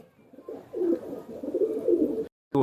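Teddy breed pigeons cooing up close, a run of soft low throaty coos with a short pause near the end before another coo begins.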